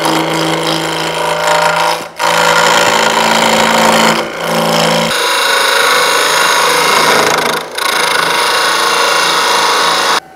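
Workshop lathe turning a wooden handle, a loud continuous motor drone with cutting texture, interrupted by three brief dips as the tool lifts off the workpiece.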